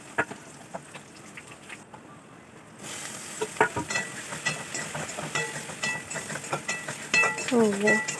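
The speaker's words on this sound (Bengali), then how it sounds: "মশলাটা কষিয়ে নিচ্ছি" Spice paste sizzles as it is sautéed in hot oil in a kadai, a moderate, crackly frying hiss that grows louder after a quieter start, with clinks of stirring throughout.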